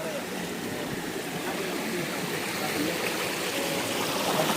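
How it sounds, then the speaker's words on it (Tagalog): River water in a rural area flows steadily with a continuous broadband rush and gurgle, fairly close and even in level, with some voices faintly mixed in. "Nakarating kami sa ilog ito mga kalangga."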